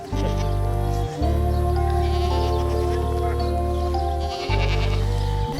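A goat bleats loudly and continuously at close range, one long wavering cry broken by a brief pause and then resumed, with no talking over it.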